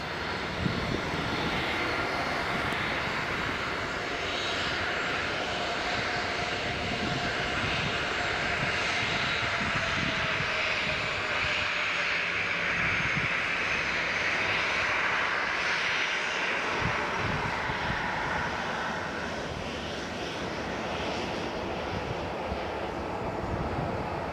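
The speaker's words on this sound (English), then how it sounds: "So the Ryanair is going to be our last departure" A Ryanair jet departs Leeds Bradford Airport, its engines roaring as a loud, sustained broadband rush that holds steady for over twenty seconds with a faint whine riding above it, no voices present.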